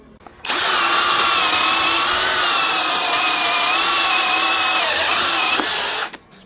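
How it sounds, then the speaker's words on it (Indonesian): A Blackfoot 21V impact drill with a 10 mm bit, set to drilling mode at speed 2, bores through a 16 cm wooden beam in one loud, steady whirring run of about six seconds that starts and stops abruptly. "Di sini untuk mata bornya diameter 10, jadi ini diameter maksimalnya. Kita akan tembusin balok ini."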